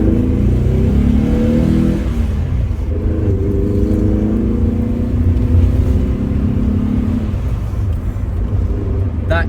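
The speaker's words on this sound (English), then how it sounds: "That is an unmistakable engine note. What else could it be other than an Alfa, especially one with a boxer engine?" A 1983 Alfa Romeo Alfasud 105 Ti QV with a boxer engine revving loudly, the note rising and falling through a couple of sustained pulls as the car drives, with a voice speaking briefly over it.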